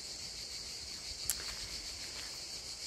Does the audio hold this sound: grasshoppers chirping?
yes